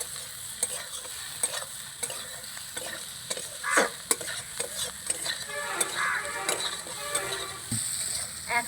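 A spiced teasel gourd curry being stirred in a pan after salt goes in, with repeated sharp clicks and scrapes of the spoon over a continuous sizzle, close up and without speech.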